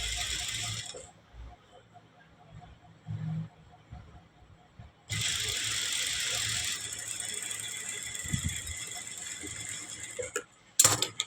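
A sewing machine stitches a princess cut blouse seam in short bursts, its mechanism whirring and rattling between pauses, with one longer steady run in the middle and soft handling noises around it.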